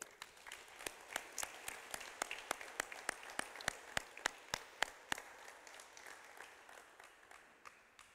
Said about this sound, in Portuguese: Vamos dar uma salva de palmas para Jesus de novo?